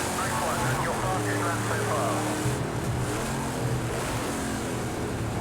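Classic GT race car engine in Project CARS 2 at Watkins Glen drones steadily at moderate volume, with shifting tones as the car is driven around the track; someone talks over it.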